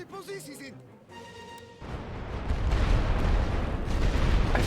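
Heavy artillery firing in The Great War: Western Front, a World War I strategy game, a loud, dense rumbling barrage of booms that builds and holds to the end after a brief stretch of game sounds.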